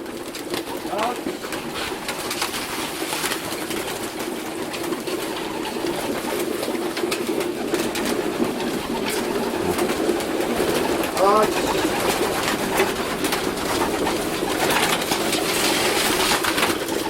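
Young racing pigeons arriving at a loft, with soft cooing and bird calls running through a steady bed of outdoor ambience, moderately loud and continuous, with a brief sharper call midway and faint voices nearby.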